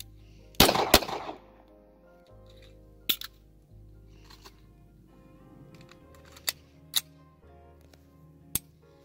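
Several sharp M9 pistol shots fired at a target, spaced unevenly with short gaps and a louder burst near the start, over a quiet low hum.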